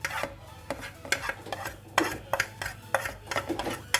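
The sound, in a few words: mixing fish with spice masala on a plate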